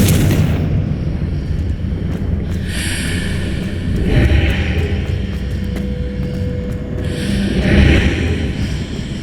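Confringo fire spell blasts in the Hogwarts Legacy video game, several booming explosive bursts with rumbling tails spread across a few seconds, loud and close over a steady low game ambience.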